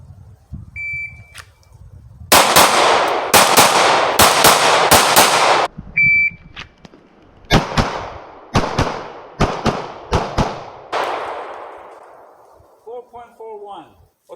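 CZ P-01 Omega pistol fired in rapid strings: a burst of loud, closely spaced cracks, a short pause with a beep, then another series of sharp shots with echoing tails, ending with brief talk.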